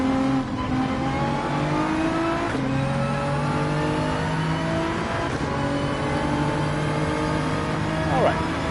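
Nissan GT-R race car in Gran Turismo 7 holding a steady, loud engine drone with rising and falling pitch through gear changes, continuous throughout with no pauses.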